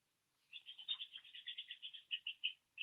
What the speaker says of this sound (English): Hear that squirrel?